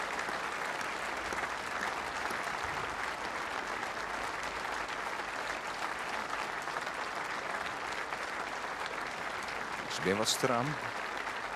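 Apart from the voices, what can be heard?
applause at a memorial ceremony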